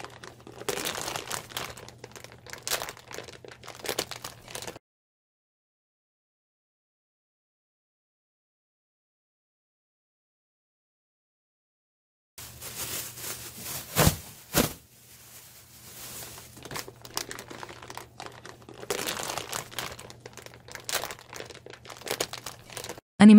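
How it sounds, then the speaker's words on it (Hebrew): A plastic trash bag crinkles and rustles up close as it is handled and cut with scissors for a mushroom liquid-culture setup. The crackling comes in two long spells separated by several seconds of silence. "אני הולך לחתוך את יתרת השקית. אנחנו הולכים להכין שקית חדשה, שקית אשפה נקייה וטריה מפלסטיק."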